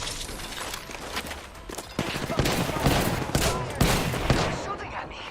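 Rapid gunfire rattles through an Apex Legends match, bursts of automatic shots and sharp cracks stacking up loudly over a couple of seconds, with a player's voice heard among them.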